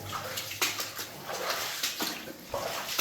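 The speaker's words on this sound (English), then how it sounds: "Just some more nasty water here." Water in an abandoned 1900s mine sloshes and splashes in repeated bursts as someone wades or moves through it, fairly close and moderately faint, with no voices.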